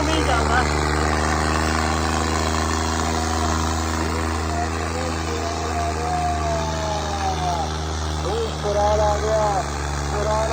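A loud, steady John Deere 5050D tractor engine drones throughout with a deep rumbling hum, while voices talk over it.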